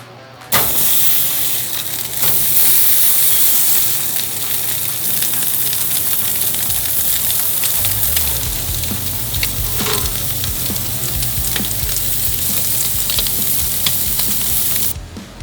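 Sausages for choripan, brushed with olive oil, sizzle loudly on a barbecue grill, a strong and continuous hiss with crackling spits throughout that cuts off abruptly near the end.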